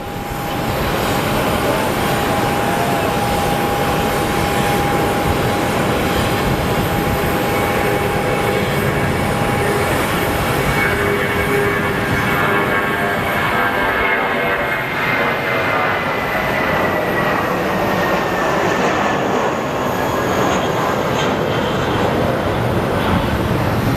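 A United airliner bound for Chicago roars steadily at Sky Harbor Airport, a loud, sustained engine rumble with a slowly shifting whine over about twenty-four seconds, with faint voices now and then underneath.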